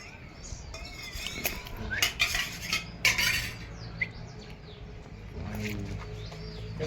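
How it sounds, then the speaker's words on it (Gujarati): Spoons and dishes being washed, with a run of bright metallic clinks and clatters in irregular bursts over a constant background hum. "ચમચો બમચો ધોઈ દેવા છે."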